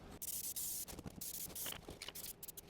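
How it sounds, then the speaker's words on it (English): Spray adhesive hissing in continuous bursts with brief breaks while car carpet is glued into a 1967 Triumph Spitfire MK3, the same glue used on the windshield frame and dash; steady, close and loud, with faint scraping and no talking. "Because we need to spray on the outside here as well, right?"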